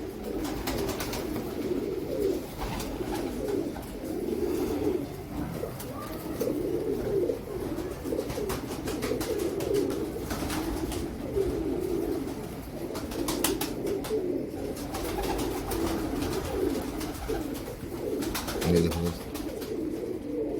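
Teddy pigeons coo softly and steadily through the scene, a low continuous murmur of several birds close by, with someone talking briefly over it.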